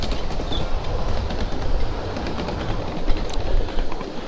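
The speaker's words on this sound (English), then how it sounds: "Just love the ambience of hearing the train roll through the tracks." A model train rolls steadily along the tracks with a continuous rumble and faint clacking, birds chirping lightly in the background.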